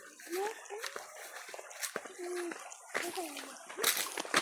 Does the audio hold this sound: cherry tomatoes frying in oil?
no